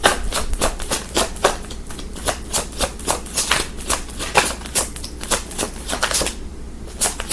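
Tarot cards being shuffled by hand, close up: a continuous series of crisp, papery riffles and slaps in an uneven rhythm, fairly loud and steady throughout, with no talking.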